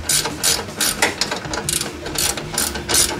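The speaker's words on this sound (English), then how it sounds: "ratcheting wrench here" Steady, rapid clicking of a ratcheting wrench working on a brake hard line, close and continuous with a few louder surges of the pawl.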